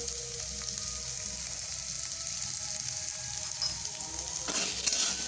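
Chopped onion with garlic and green chili fries in a pan with salt, a steady, close sizzle that grows louder and brighter in the last second.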